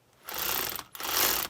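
A cordless power tool with a variable speed trigger works on the brakes of a Porsche Macan, giving two close whirring, ratcheting bursts with a short pause between them.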